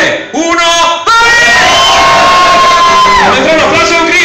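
A concert audience at a swing band show lets out a loud, sustained collective shout on a countdown cue, a dense crowd roar that swells and holds for several seconds.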